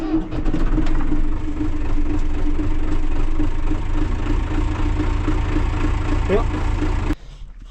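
A tractor engine idles steadily while warming up on a ranch, a constant low rumble running nearly seven seconds before cutting off abruptly near the end.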